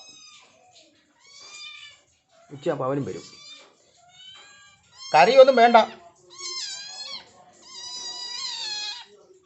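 A neighbour's cat meows repeatedly at close range, with drawn-out, wavering cries between and over stretches of a person talking.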